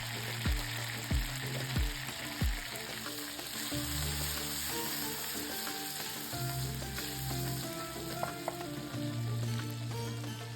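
Honey chili sauce with hot chili sauce and crushed red chili simmers and sizzles steadily in a pan, with a few soft stirring knocks early on and a continuous bubbling hiss throughout, no voices.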